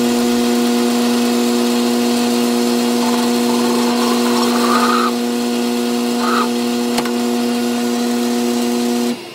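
A countersink chamfers the edge of a drilled hole in a metal part for a riv-nut dimple die, giving a steady, loud tonal machine whine with a faint cutting chatter that stops abruptly at the end.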